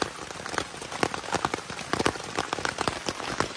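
Heavy rain pours steadily at a mountain camp on Mount Latimojong, a dense continuous patter of drops drumming on surfaces close by, with no voices.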